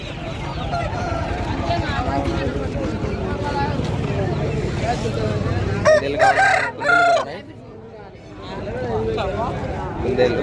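Roosters crowing and hens clucking at a busy Saturday poultry market in Mydukur, Kadapa, Andhra Pradesh, where hens and cocks are sold, heard close under continuous talk and crowd bustle.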